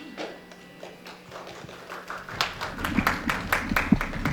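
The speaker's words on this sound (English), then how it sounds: "I'm sure he's out there clapping as the rest of us are clapping" An audience claps after a song at a celebration of a man's life, the applause starting sparse and quiet, then swelling into fuller, denser clapping with a few sharp taps.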